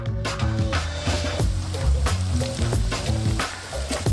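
Loud, steady sizzling and crackling of shrimp frying in hot oil, with occasional stirring clatter throughout.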